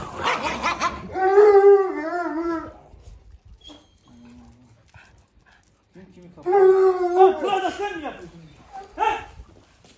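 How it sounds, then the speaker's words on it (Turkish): Several newly arrived dogs howl and whimper in two drawn-out bouts separated by a quieter pause, loud and close, with a person speaking briefly at the start. "Şimdi yeni köpeklerimiz Reyna, Boz, Vurgun"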